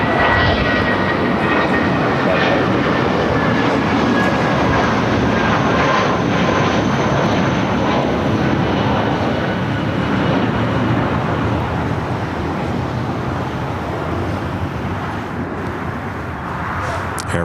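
A Viva Aerobus airliner takes off from the south side of LAX, its engines producing a loud, sustained roar that slowly eases in level toward the end.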